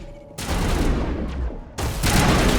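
An assault rifle fires in the Mass Effect Legendary Edition video game. Two long, loud bursts of rapid gunfire roar over the game's background sound, with a short lull between them.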